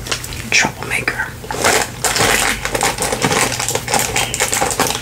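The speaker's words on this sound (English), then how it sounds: "There's some crinkle sounds for you guys." A pet crinkles and chews at a microphone accessory, making close, dense crackling and rustling bursts with soft whispered speech mixed in.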